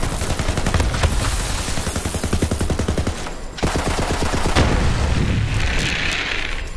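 Rapid automatic gunfire from a weapon in the looter shooter Borderlands-style game on Mayhem 10, a fast, steady stream of loud shots for about three seconds, then more bursts and booming impacts.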